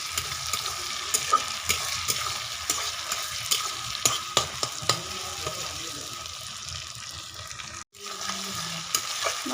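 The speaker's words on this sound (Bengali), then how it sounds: "দিয়ে এবার আমি বাকি মশলার সঙ্গে কষিয়ে নেব" Chopped tomato and spices frying for a chicken curry, with a steady sizzle and frequent scraping stirs and clinks of a spatula against the pan, close up and with no voice, broken by one brief dropout.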